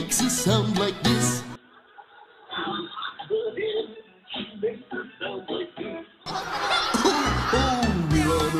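Several voices imitate a hen's clucking in short choppy bursts, with giggling mixed in, close and lively.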